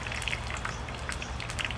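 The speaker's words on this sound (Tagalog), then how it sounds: "So, medyo umuulan-ulan na siya." Rain falls outdoors during cooking, a dense steady patter of drops striking surfaces close by, with faint sizzle-like crackle and no voices.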